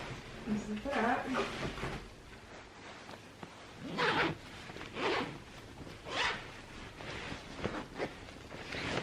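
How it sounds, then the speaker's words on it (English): A clothing zipper is pulled shut in several short rasping strokes, close by, interspersed with rustling as someone speaks over it. "zip it up."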